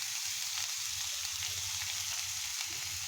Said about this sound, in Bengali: দিয়ে মশলাটা এবার আমরা কষিয়ে নেব।